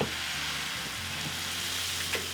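Steady crackling sizzle of crepe batter hitting a buttered hot sauté pan, close and continuous with a brief louder spatter at the end.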